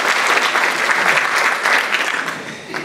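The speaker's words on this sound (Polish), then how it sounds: "Wiecie Państwo, jeszcze nic nie zrobiłem, a takie duże brawa" A concert audience at a songwriting festival applauds loudly and continuously, a dense close wash of clapping that dips slightly toward the end.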